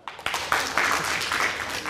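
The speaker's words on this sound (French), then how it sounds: "On va applaudir pour eux." Audience clapping for a performing group at an outdoor elimination-round contest, a brief burst of dense applause that swells quickly and stays loud for under two seconds.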